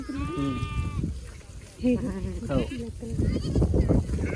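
Sheep in a flock kept by a Dhangar herding family on a farm bleat repeatedly, with a long clear bleat up front and more overlapping calls after, close by and mixed with nearby voices talking.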